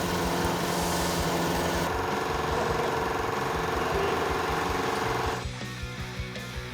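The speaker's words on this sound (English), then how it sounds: "Once the mill is spinning, the part will be moved below it by cranking the X-axis handle." A manual vertical mill spins and cuts into a metal part, a loud, steady mechanical whir with rapid rhythmic chatter and tonal hum that shifts partway through as the cut changes.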